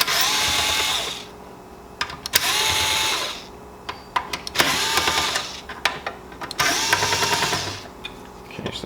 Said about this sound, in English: Now I'm using an electric screwdriver because I have experience with this